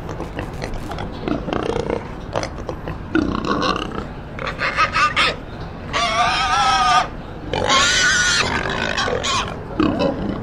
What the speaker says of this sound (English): I don't understand how pig noises is an alien language.